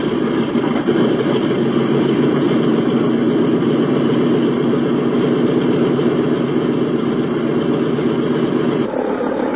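An aircraft's number 2 engine runs at a steady, loud drone, with a dense, even mid-range hum holding throughout and a slight change near the end, with no voices.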